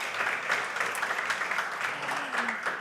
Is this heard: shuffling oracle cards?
no